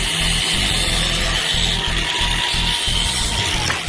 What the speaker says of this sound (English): He's prepping these cables with the grinder. He's rounding the ends over